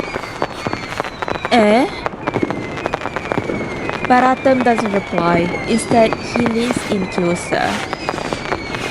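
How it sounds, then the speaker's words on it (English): Fireworks burst repeatedly overhead in an outdoor night setting, a dense run of crackles and pops interleaved with whistling rockets, while a voice narrates over them. "Fireworks erupt overhead, painting his features in brilliant ephemeral hues."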